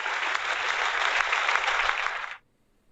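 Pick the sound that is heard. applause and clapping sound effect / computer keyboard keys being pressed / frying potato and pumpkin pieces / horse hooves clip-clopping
applause and clapping sound effect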